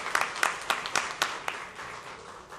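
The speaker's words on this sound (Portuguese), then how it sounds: "Uma salva de palmas para Edson Flecha." Applause at a formal solemn session honoring a retiree, starting with several sharp distinct claps that quickly blend into a softer, thinning patter from a modest audience heard at some distance.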